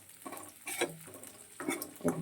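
Potatoes and onion fry in a pan, with soft sizzling and a few brisk stirring and scraping bursts, close and fairly quiet.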